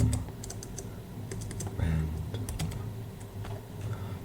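Computer keyboard typing as a script name is entered, with quick, light key clicks in small clusters close up and a low background hum.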